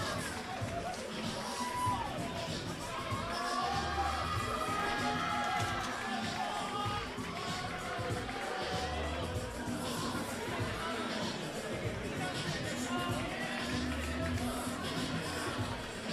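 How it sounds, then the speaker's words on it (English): A big crowd at a college boxing club bout keeps up a steady roar of cheering and chatter, while an announcer talks over it throughout. "Big crowd presence for Tom here"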